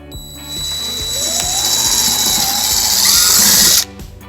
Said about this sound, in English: using a 3/16 drill bit, we'll drill our first hole